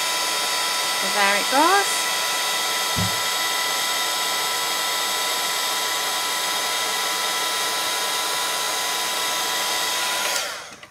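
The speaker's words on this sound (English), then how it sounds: "I'm just gonna heat up from the back and melt that embossing powder" A heat tool blows and whines steadily for several seconds while melting embossing powder on a handmade card, close and loud, with a brief spoken remark over it near the start before it cuts off.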